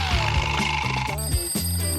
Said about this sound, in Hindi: तुम्हें पता है उस अलार्म का मतलब क्या है?